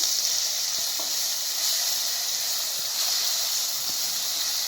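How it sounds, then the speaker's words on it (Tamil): Onions and tomatoes sizzle as they sauté in a pan while making a Tamil-style chicken curry, giving a steady, close, continuous hiss with a few faint clicks and no talking. "இந்த வெங்காயம் வதங்கி வச்சு இப்போ இந்த தக்காளி சேர்த்துக்கலாம்"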